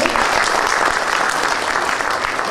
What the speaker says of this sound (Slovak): Ešte jeden veľký potlesk poprosíme pre Sofiu.